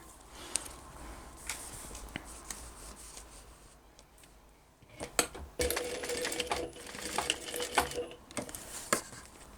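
Sewing machine stitching a small crossbody purse, starting with sparse clicks and taps, then running in bursts of rapid mechanical stitching that grow louder in the second half, with no talk.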